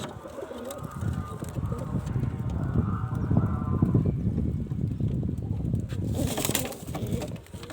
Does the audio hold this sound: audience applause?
no